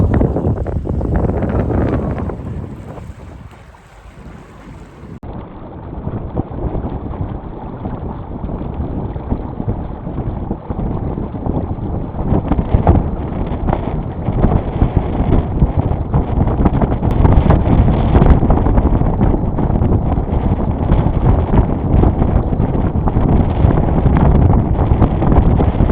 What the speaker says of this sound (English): Really starting to pick up as this afternoon squall starts moving in.